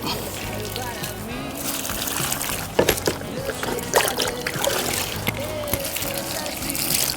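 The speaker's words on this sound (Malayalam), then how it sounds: "ഇനി 4 സൈഡിലും കുറേശ്ശെ വെള്ളം ഒഴിച്ച് കൊടുക്കാം" Water is poured in small amounts around freshly planted red dragon fruit cuttings, a soft trickling and splashing set against a dense, steady rumble of background noise.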